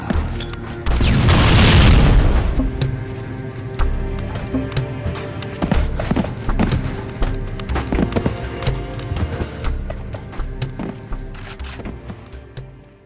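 Grenade blasts echo down an elevator shaft in Halo: Combat Evolved, opening with one loud booming explosion and followed by a rattling string of smaller pops and crackles that fade away.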